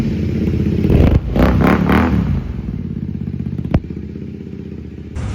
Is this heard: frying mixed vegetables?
no